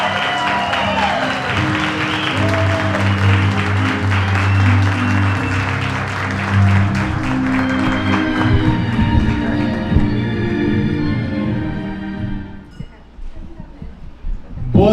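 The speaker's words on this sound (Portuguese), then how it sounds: "Vamos receber com uma calorosa salva de palmas, como ele merece, o anfitrião dessa noite" A crowd gives warm applause to the host of a birthday celebration and book launch while music with tonal instruments plays and voices carry over it; the clapping and music fade out near the end.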